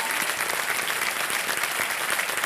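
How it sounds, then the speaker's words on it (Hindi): An audience claps dense and steady in a close, continuous burst of applause for author Anuja Chauhan, with no voices rising above it. "तालियां बजाएं अनुजा चौहान जी के लिए"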